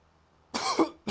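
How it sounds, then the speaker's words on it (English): A person coughs a few times, a sharp rough burst followed by a shorter second cough, close and fairly quiet against a silent room. "Coughing on a Let's Play."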